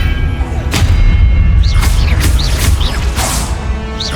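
Magical spell blasts from the Hogwarts Legacy video game, Confringo and Depulso among them, go off as a run of loud booming impacts with whooshing bursts over a dense, continuous combat rumble.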